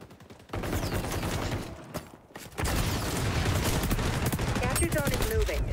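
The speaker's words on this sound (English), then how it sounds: "I shot a whole mag into him" Sustained rapid gunfire as a whole magazine is emptied in the video game XDefiant, a dense, loud burst that keeps going for several seconds after a brief break.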